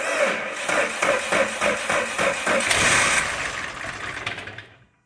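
A Toyota Yaris fitted with a replacement engine after the original lost compression on one cylinder cranks in a rapid, rhythmic churning burst that swells and then cuts off, loud and close.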